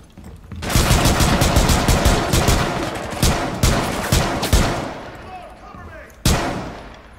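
Automatic gunfire in Rainbow Six Siege: a long, loud, close burst of rapid shots, then several shorter bursts with brief gaps, and a final single sharp volley after a pause.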